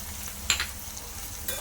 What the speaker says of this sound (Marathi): छान परतून घ्यायचं कांदा